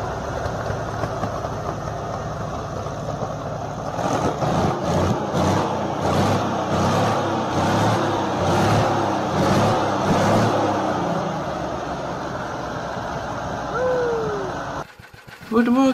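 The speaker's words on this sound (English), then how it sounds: "You see a powerful motor in action." A powerful electric motor of the kind used in ships and large equipment runs steadily with a loud, even drone and a faint pulsing rhythm, continuing for most of the stretch before a brief cut near the end.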